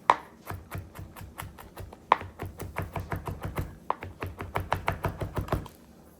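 A knife mincing garlic on a cutting board, with a fast run of sharp, evenly spaced chops close up, two louder strikes near the start, and no talking.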